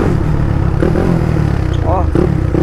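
A modified Honda Twister motorcycle fitted with a 79mm big-bore kit revs close by, its engine a loud, rough, continuous rumble with brief throttle blips, and people talk over it.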